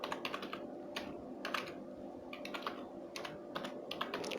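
Fast typing on a computer keyboard, with irregular bursts of quiet keystroke clicks and short pauses between groups, close and fairly faint, no voices.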